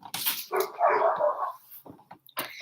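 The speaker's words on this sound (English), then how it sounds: "do y'all hear them dogs?" Several dogs barking near a dog park outdoors, a burst of loud close yips and barks followed by scattered shorter barks and whimpers, with no talking.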